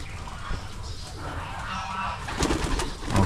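Pigeons cooing inside a loft, with low, soft, repeated coos close by over a rustling, noisy background.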